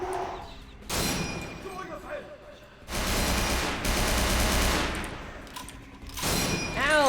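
Gunfire erupts in bursts in Vampire the Masquerade: Bloodlines, loud rapid volleys with pauses between them, mixed with clatter and impacts, and a voice speaking briefly among the shots.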